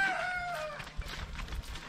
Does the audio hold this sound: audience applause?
no